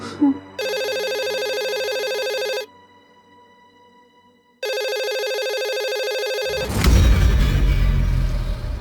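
A telephone rings in two long electronic bursts separated by a pause, loud and close, before a rumble of handling noise takes over; a call to a police station is being placed.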